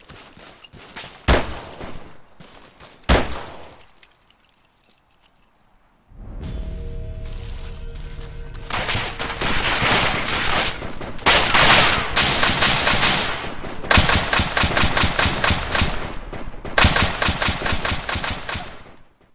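Sustained automatic gunfire in the military shooter game Arma 3: a couple of sharp single shots, a brief lull, then long loud bursts of rapid rifle and machine-gun fire that continue almost without pause.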